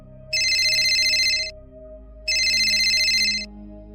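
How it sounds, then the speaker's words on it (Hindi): A phone's electronic ringtone sounds for an incoming call, two loud identical bursts of bright trilling tone separated by a short gap, with a low steady hum beneath. "उसके तुरंत बाद ही वापस उसी फोन पर कॉल आया।"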